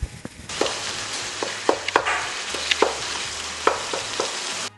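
Ground beef for shepherd's pie browns in a hot pan with a continuous close sizzle, punctuated by sharp spatula knocks and scrapes as the meat is broken up, roughly one every half second to second.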